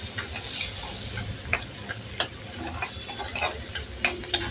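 Chopped onion and tomato sizzle steadily in a frying pan while a spoon stirs them, with scraping clicks and taps scattered over the continuous close frying hiss.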